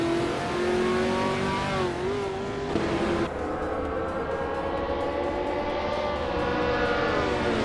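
Racing engines roar in a video game, including a 1968 Surtees CS5, loud continuous high-revving whine with pitch climbing and shifting as cars run close together, no voices.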